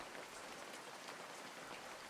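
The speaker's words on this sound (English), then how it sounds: "Rainy afternoon, in a parking lot." Rain falls over a parking lot on an afternoon, a soft, even hiss of drops with no break, quiet and steady.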